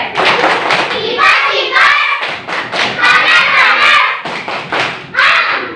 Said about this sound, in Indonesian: Berikan tepuk tangan untuk semuanya ya. Tepuk sate.